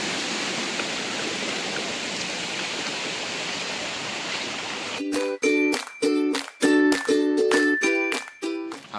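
Water rushes steadily at Wardoli Thakurwadi waterfall and its stream near Panvel, a dense, even roar for about five seconds before music with sharp chopped notes cuts in and takes over.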